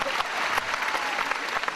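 A theatre crowd at a live stand-up comedy show applauds, dense continuous clapping filling the hall at close range.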